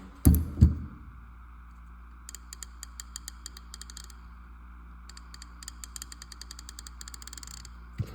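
A 3/8-inch ratchet is worked by hand at close range, its pawl producing rapid runs of small, even clicks in several bursts after a couple of heavier handling knocks at the start.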